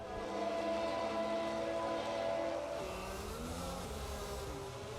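F1 race car engines in the F1 22 video game rev steadily at a race start, a loud, continuous whine with pitch sweeping as the gears shift.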